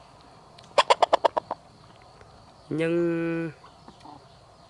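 A young chicken makes a quick burst of about six sharp clucks, followed after a pause by a drawn-out squawk, close and clear over quiet room noise with a brief spoken word.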